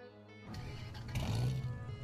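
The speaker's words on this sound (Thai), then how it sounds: "นี่จะเป็นเสียงเครื่องยนต์ใหม่นะครับ" A Dodge Viper-style car engine in Roblox Jailbreak starts up and revs briefly, a low rumble swelling then settling, fairly quiet and close.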